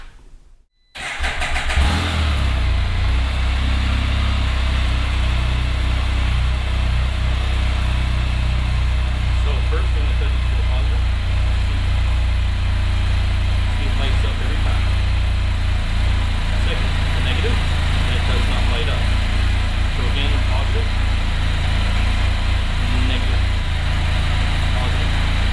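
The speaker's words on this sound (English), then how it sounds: "I'll start up the bike and show you the differences in polarity" A Can-Am Spyder three-wheel motorcycle engine starts at about one second, then settles into a steady, loud, close idle that runs on evenly with no talking.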